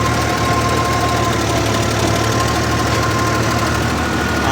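Tractor engine running in a cotton field: a loud, close, continuous mechanical drone with a steady rumble and no change in pace, heard alone without voices.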